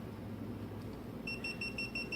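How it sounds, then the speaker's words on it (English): A quick series of about five high electronic beeps from a Gitup Git2 action camera powering off, at a steady rhythm, close and fairly soft, over faint background hiss. "5 beeps to turn it off."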